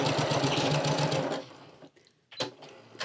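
A sewing machine runs in a steady close buzz as it stitches across the end of a fabric tube for a stocking stuffer. It stops after about a second and a half, followed by faint handling noises.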